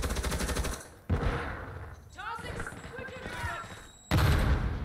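A RAAL machine gun in Call of Duty multiplayer fires two loud rapid bursts, one at the start and one near the end, with someone talking in between.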